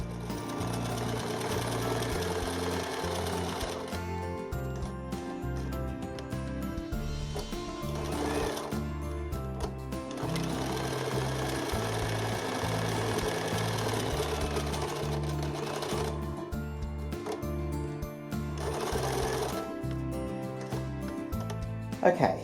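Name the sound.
sewing machine sewing buttonholes on a doublet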